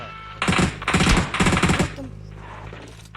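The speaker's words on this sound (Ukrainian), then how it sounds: "Який бот стріляє?" Several rapid bursts of automatic gunfire in the video game PUBG Mobile rattle out in quick succession, fairly close, then trail off into quieter background noise.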